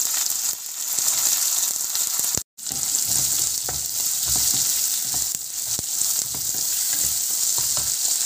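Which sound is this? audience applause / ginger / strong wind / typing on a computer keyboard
ginger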